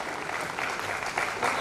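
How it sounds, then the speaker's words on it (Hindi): An audience at a charitable trust's award ceremony claps steadily, a brief burst of dense applause that swells slightly toward the end. "तालियों का ऐसा महोत्सव हो कि हमारी विभूतियों को भी लगे"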